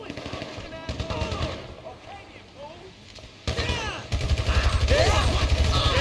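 Gunfire during a GTA V shootout, with bursts of shots over busy game sound that grows louder and denser toward the end, with voices mixed in.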